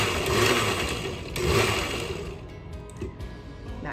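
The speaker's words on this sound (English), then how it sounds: "hit it really quick with the blender" Blender briefly pulsing blueberries into protein pancake batter, a short loud whirring burst that spins up twice then cuts off, leaving quiet kitchen clatter.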